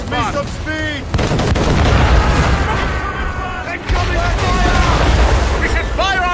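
Ship cannon fire in the Assassin's Creed Rogue video game, heavy booming blasts rumbling under a continuous din of battle, with voices shouting over the noise throughout.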